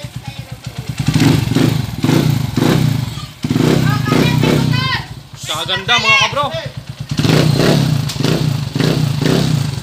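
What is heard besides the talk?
175cc motorcycle engine revving, exhaust sound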